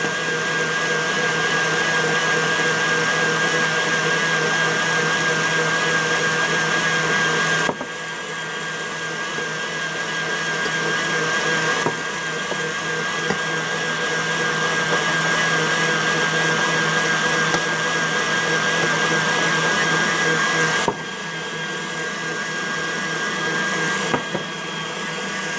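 An electric mixer whisks cream with vanilla for a banana cream pie toward stiff peaks, a loud, steady motor whir that runs continuously with brief dips in pitch and level as the beaters shift, no talking over it.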